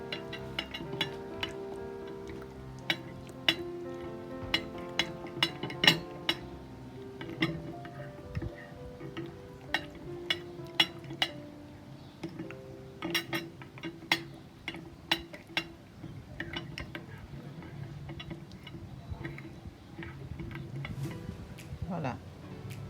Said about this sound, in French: À présent, je vais mélanger le tout.